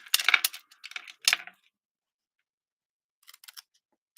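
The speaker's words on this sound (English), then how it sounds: "we need to cut out the outside 3 squares" Scissors snipping paper squares for a handmade card: a quick cluster of crisp, close cuts, a short pause, another snip, then a few faint clicks after a long silence.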